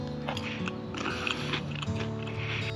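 Crunchy cooked fish, freshly speared, is chewed close up in steady, crisp bites over a busy, humming background with no talk.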